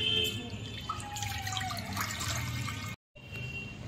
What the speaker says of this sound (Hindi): अब इसमें पानी डाल लिया है।